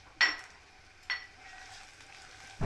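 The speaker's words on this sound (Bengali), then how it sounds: "এটাকে আমি ব্রাউন কালার হওয়া পর্যন্ত ভেজে নিব" Chopped onion and garlic go into hot soybean oil in a pan, with a couple of sharp bursts followed by a faint, steady sizzle, quiet and close.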